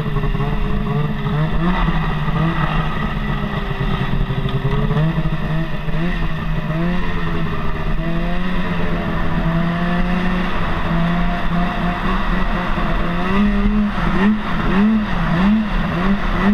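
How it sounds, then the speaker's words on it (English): A snowmobile engine revs up and down in rising and falling whines as the machine pulls away, loud and close throughout with no talk. "That's how you ride a snowmobile."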